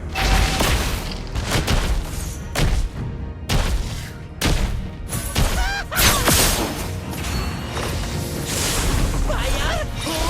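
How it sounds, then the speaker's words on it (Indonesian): A Mobile Legends turret being destroyed: a run of heavy booms and crashing impacts with whooshes between them, loud and close, mixed with game voice announcements. "Your team destroyed a turret."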